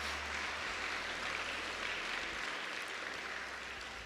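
Audience applause fills a hall after a speaker's story, steady dense clapping throughout at moderate level, no voices over it.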